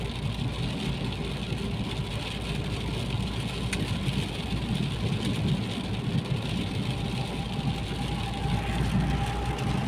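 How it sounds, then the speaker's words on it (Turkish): A steady, low diesel engine idle rumbles from inside a Dacia Sandero Stepway 1.5 dCi, with constant hum and faint road or rain noise, no talking. "Şimdi motor sesini içine alıyor"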